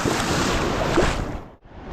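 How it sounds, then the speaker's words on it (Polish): Waves break near the shore around someone wading knee-deep, a close, steady hissing rush of surf that briefly drops away near the end before swelling again. "fale się tutaj załamują"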